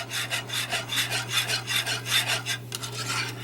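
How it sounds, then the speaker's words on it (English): Turkey drippings whisked into gravy in a pan give a close, brisk rasping scrape in quick rhythmic strokes over a low steady hum, with no talking. "And we'll go ahead and whisk that in as well."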